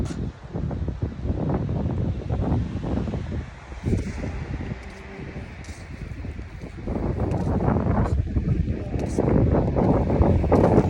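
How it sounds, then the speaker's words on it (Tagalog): Steady wind at a beach in Astoria, Palawan, gusting and rustling against the microphone across the whole stretch, with faint background voices and shuffling underneath. "Pero ang sarap ng hangin."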